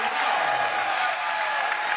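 A women's college basketball crowd at Steelman Fieldhouse, on its feet in a close game's final minute, roaring and applauding in a steady, loud wash of cheering.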